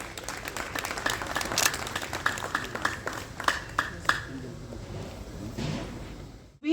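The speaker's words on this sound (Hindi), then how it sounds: "आपकी तालियां इन्हें ये दर्शाएंगी कि हम इनका आभार प्रकट करते हैं" An audience claps at a hospital MRI and CT scan center inauguration, scattered hand claps with several loud close strikes over a noisy room, tapering off toward the end.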